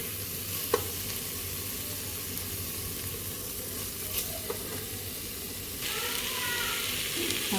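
Set-aside masala powders are stirred into a chicken mixture frying in a pan, a constant close sizzle broken by a few sharp scrapes and taps of the spoon, with a brief burst of hissing near the end.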